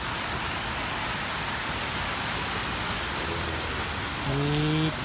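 Steady rain falls during a rainy morning patrol, a dense even wash of patter throughout, with a brief tonal hum or engine note rising near the end.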